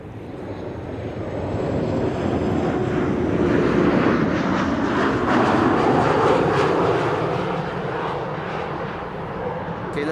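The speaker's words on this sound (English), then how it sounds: "KLM flight 1928, arriving from Geneva in Switzerland" A KLM airliner arriving at Amsterdam Schiphol from Geneva on a frosty winter day, its engine roar swelling steadily to a broad peak midway and easing off slightly toward the end, with faint background voices.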